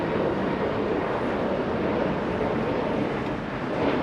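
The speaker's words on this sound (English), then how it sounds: "And Spirit Airlines lifting off." A Spirit Airlines A320neo airliner lifts off at Los Angeles International Airport, a steady, broad jet roar mixed with wind rumble that holds at a constant level throughout, with no talk.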